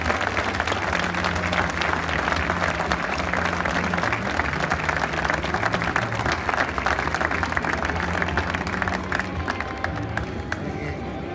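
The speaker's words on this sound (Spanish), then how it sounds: "Vamos a dar un aplauso al Padre Ángel" An audience at a charity auction in Grado breaks into sustained applause for Padre Ángel, a loud continuous clapping crowd with some cheering, holding steady for about eleven seconds before easing slightly at the end.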